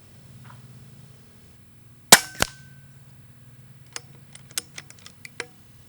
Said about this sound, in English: Cycling the rifle automatically engages the safety.